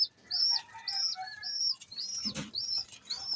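Repeated high chirping squeaks from pigeon squabs begging as a Blue Bar pigeon hen feeds them, in a rapid uneven series with a brief flutter or rustle midway, close and fairly quiet.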